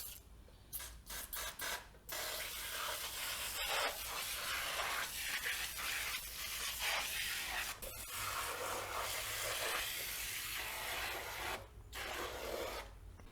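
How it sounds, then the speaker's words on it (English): Foaming cleaner sprayed onto a BMW K1600 GTL motorcycle radiator in a series of close hissing bursts, some short and some sustained, with brief gaps between them and no talk. "I'm going to give it another coat of the foaming cleaner"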